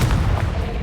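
Bombarda and Confringo spell blasts go off in the wizarding game Hogwarts Legacy as a loud, heavy, booming burst that fills a brief moment.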